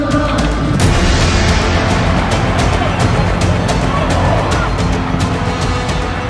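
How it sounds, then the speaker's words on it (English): Dense stadium crowd noise at Vicarage Road, Watford, as the Z Cars theme plays for the teams walking out of the tunnel, a steady loud roar with the music blended into the din throughout. "out of the Vicarage Road Tunnel to the familiar sound of Z cars"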